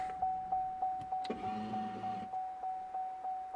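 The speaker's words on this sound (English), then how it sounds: "So there is definitely something wrong with the locks. There is a noise coming from there" Faulty rear door locks on a 2010 Vauxhall Meriva B give a repeated soft clicking tick at a steady rhythm, broken once by a longer whirring buzz of an actuator running for about a second, heard close in a quiet car interior.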